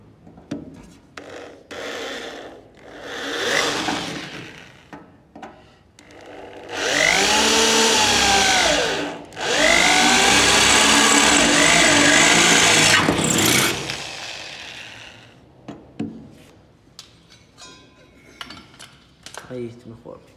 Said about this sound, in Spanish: Ahora voy a hacer el agujero para soldar con la mecha.